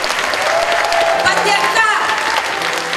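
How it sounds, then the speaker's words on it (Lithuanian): A thick storm of audience applause for folk dancers and singers, dense continuous clapping from a large crowd with a voice speaking over it. "Ne plojimai, o audra jiems!"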